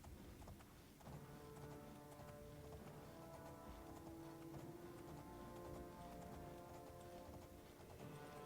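Horse hooves clip-clop steadily across the ground in the Oblivion video game, a quiet continuous trotting rhythm under game background sound with no talking.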